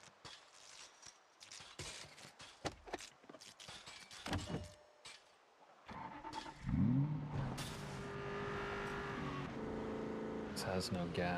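Car engine in the zombie-survival game Project Zomboid, starting about halfway through: a rising rev that settles into a steady, loud drive hum, with scattered clicks and thumps beforehand and speech over parts.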